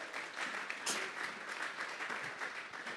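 A church congregation applauds together, a dense, steady wash of clapping hands that fills the whole three seconds with no break.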